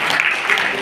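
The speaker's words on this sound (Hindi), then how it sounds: "एक बार जोरदार तालियां मंजू मैम के लिए" Audience clapping at an anti-drug pledge event held at a women's college, Maharani Sudarshan Kanya Mahavidyalaya: a brief, dense, steady wash of many hands applauding together at close range, sustained evenly without a break.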